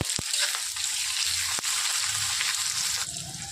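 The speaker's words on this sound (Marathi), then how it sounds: "तेल आपलं तापलं आहे. आता त्यात मी राई मोहरी टाकते, थोडं जिरं, त्यात आपण बारीक चिरलेला कांदा टाकूया" Chopped onion frying in hot oil with mustard seeds and cumin for a Khandeshi-style pithla, giving a steady, loud broadband sizzle with a few sharp pops and no talking.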